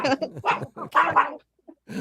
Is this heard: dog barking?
yes